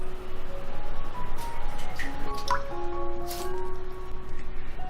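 Shrimp with heads trimmed and whiskers cut off are rinsed clean in water, giving close, steady sloshing and trickling with small drips and squishy handling noises throughout, and no voices.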